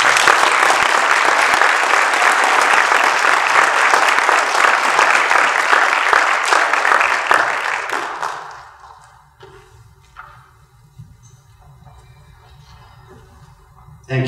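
A keynote audience bursts into loud, sustained applause for the speaker at an in-person campus event; the dense clapping fills about eight seconds, then fades away quickly into a quiet room.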